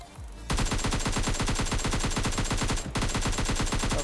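Rapid automatic gunfire in a battle royale video game, a steady dense burst of evenly spaced shots running loud and close for several seconds after a short quiet start, with a brief gap near the end.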